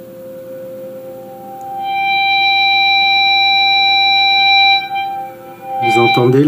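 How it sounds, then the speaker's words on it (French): Electric guitar with an EBow Plus in harmonic mode rings a high, pure sustained note that swells in and holds steady, then cuts off as a voice begins speaking. "Là, je vais utiliser le mode harmonique."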